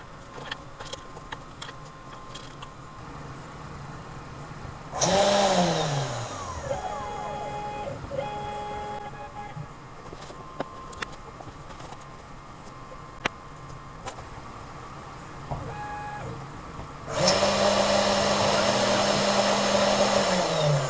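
An Anolex 3030-Evo Pro desktop CNC machine runs near the mic. Steady motor whine and stepping tones fill the clip, with a louder spindle burst at 5 s and again from 17 s, and no one speaks.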